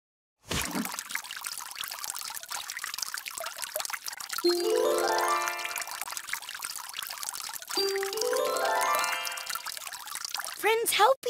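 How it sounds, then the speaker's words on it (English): Water poured from a watering can onto plants, a steady trickling pour throughout with two rising chime-like flourishes and a brief ding at the end, under light talk. "I'm watering the plants to help them grow."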